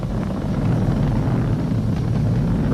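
Falcon 9 rocket with Merlin 1D engines roaring during ascent while throttled down before maximum dynamic pressure, a continuous, dense low rumble with steady broadband roar and no voices.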